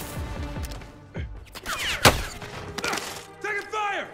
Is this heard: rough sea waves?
no